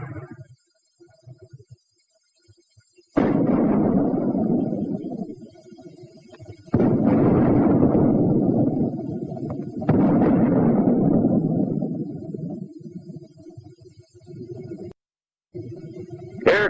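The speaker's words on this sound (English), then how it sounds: "The mortar also fires smoke shell." Mortar firing white phosphorus smoke shells in 1942-era World War II footage: three heavy, booming blasts, each followed by a long rumbling decay, with a low hum in the quieter gaps.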